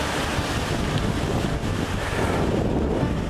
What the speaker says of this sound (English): apparently a really big windstorm today, which it is kind of windy.